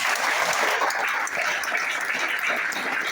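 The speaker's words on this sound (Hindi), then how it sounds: "उनके लिए जोरदार ताली होना चाहिए" Loud, dense applause from an audience honouring the organisers of a team programme event, steady clapping sustained for about three seconds with no talk over it.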